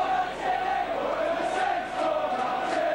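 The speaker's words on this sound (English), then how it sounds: "Saints popular side crowd getting behind them now." The St Helens home crowd roars steadily at a 1988 rugby league match against Castleford, a dense, continuous wall of distant cheering and shouting that swells slightly without a break.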